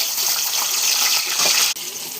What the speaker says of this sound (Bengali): পেঁয়াজটাকে দেখুন চিপে এই যে জলটাকে বের করছি